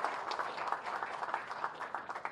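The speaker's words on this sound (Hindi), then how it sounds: "तालियों से आप स्वागत करें" Soft, brief applause from an audience welcoming a government minister at a public event, a light patter of clapping heard from a distance.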